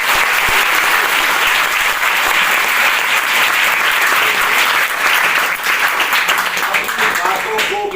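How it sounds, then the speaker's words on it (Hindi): Loud, dense audience applause fills the hall at a ceremony at a Saraswati PCM institute, a steady wash of many hands clapping that holds from start to finish with only slight dips. "मैं चाहता हूं इनके लिए एक बार जोरदार तालियां।"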